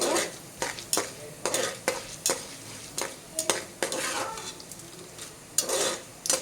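Chana dal and urad dal fry in a pan for traditional adai, with a spoon scraping and clinking against the metal in repeated close strokes over a low crackling sizzle.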